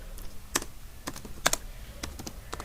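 Typing on a computer keyboard, a few quick clusters of sharp, close key clicks separated by short pauses, with nothing else in the background.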